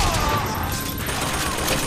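A turret in BioShock Infinite fires a rapid, continuous burst of gunfire, loud and close, with voices talking over it.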